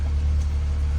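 A Ford Bronco or Jeep Wrangler SUV engine idles loudly with a deep, diesel-like rumble, a steady, heavy low drone close by with no talking over it.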